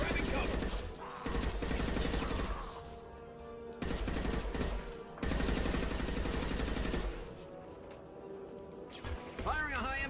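Gunfire in the video game Mass Effect 2 Legendary Edition, dense bursts of shots and impacts with brief breaks between volleys, loud and continuous with game sound layered over it and no clear talking.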